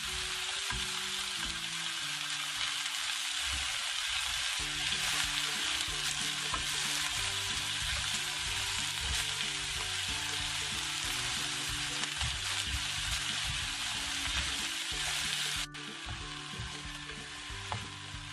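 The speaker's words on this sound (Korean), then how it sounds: "자, 이런 식으로 야채를 계속 익혀줍니다" Vegetables sizzle and crackle steadily in a hot pan as they are stir-fried for jjajang sauce, a dense continuous frying hiss with stirring scrapes underneath, dropping slightly quieter near the end.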